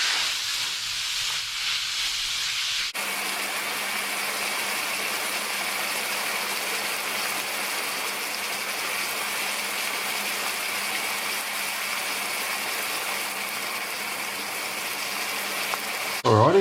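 Beef mince browning in a pan with smoked paprika gives a steady, even sizzle and hiss that runs unbroken for about thirteen seconds, close and moderately loud, with no talking.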